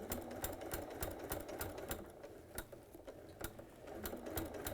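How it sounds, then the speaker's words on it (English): A sewing machine stitches slowly along a fabric edge, its needle ticking in a steady, even rhythm close by and fairly quiet, with no talk over it. "I'm going quite slowly because I want to make sure I'm sewing on that edge."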